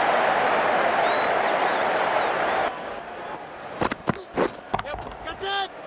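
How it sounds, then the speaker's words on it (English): A crowd in the video game Cricket 19 applauds a cricket shot, a broad roar of cheering that cuts off abruptly, followed by short bursts of commentary voices. "That's what the crowd have come to see."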